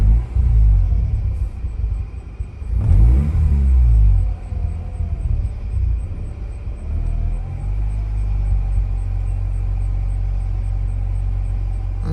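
A 2004 Mazda RX8 rotary engine, started after two years of sitting, runs with a loud, steady low rumble close by. Around the third second it surges briefly, then settles back to an uneven idle.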